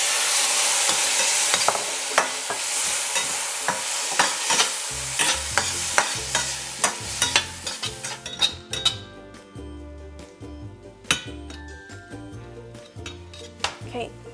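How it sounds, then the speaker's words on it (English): Prawns stir-fried over low heat in a pan for Nyonya pie tee filling, a soft sizzle under repeated clinks and scrapes of a metal spatula against the pan, sharp irregular strikes close by that grow sparser toward the end. "stir fry this at really low heat"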